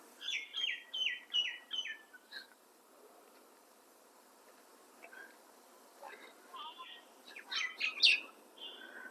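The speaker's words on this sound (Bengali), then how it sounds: "আপনারা শুনতে পাচ্ছেন" Small birds chirp beside a village road, giving quick bursts of high, bright twitters that come in clusters at the start and toward the end, moderately near and fairly faint, with quiet stretches between.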